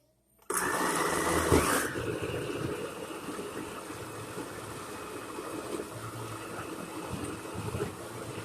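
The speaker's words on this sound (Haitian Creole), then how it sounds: "On va le blender." A blender whirs loudly as it starts up and mixes a hair treatment, then settles into a steady, somewhat lower hum that runs for several seconds with no talking.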